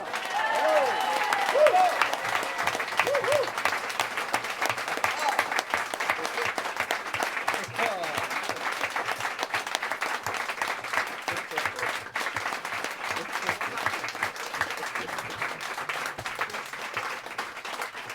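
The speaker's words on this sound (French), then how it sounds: "Je vous demande d'applaudir très fort" Sustained audience applause at a concert rolls on steadily throughout, broad and even, with a few faint voices and calls rising above the clapping near the start.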